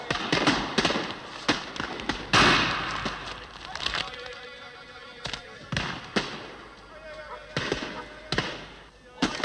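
Shotguns fire during a bird shoot, a series of sharp, loud reports at irregular intervals, some close and some farther off, with people talking between the shots.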